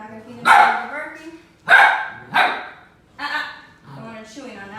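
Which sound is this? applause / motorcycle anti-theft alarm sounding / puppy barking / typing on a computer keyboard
puppy barking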